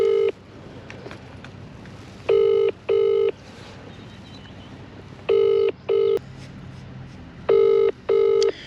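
A telephone call to a farm manager's phone rings out unanswered: three loud, clear pairs of double ring tones spaced evenly over a quiet line, with no voices.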